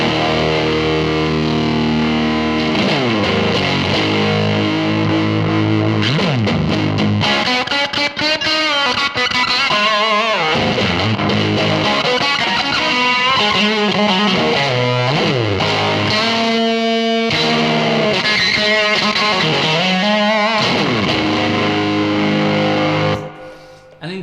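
Electric guitar through a DIY Fuzz Face fuzz pedal, a germanium or silicon transistor build, playing loud saturated riffs and sustained chords with thick amp-like distortion for about twenty-four seconds, then cutting off abruptly.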